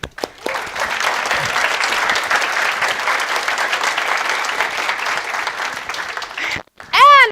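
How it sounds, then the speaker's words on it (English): An audience at a conference session breaks into sustained applause that stays loud and steady for about six seconds, then fades, with a voice returning at the end. "And another big round of applause for all of our speakers."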